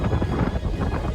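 Strong wind in a heavy snowstorm, a loud, low rumbling buffet that rises and falls throughout a short stretch.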